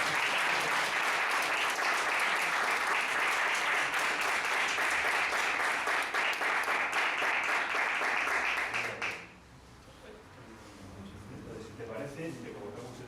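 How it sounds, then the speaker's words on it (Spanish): An audience applauds at an award ceremony, a sustained, dense wash of clapping lasting about nine seconds before cutting off into quieter room sound. "Yo creo que un aplauso."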